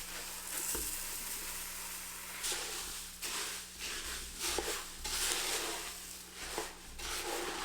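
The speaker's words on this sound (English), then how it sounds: "You'll want to scrape that bottom, lift it up, and get all of this cereal coated" A heavy wooden spoon scrapes and stirs rice cereal through melted peanut butter in a pot, giving soft, crackly, irregular strokes over a low steady hum, quiet and close.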